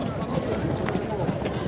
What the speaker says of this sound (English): mounted his horse and they set off for the docks.